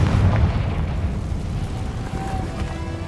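Confringo fire spell blast in Hogwarts Legacy, a dense booming explosion with heavy low rumble that starts loud and decays slowly over a few seconds, no voices.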